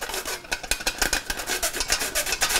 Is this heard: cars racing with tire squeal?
no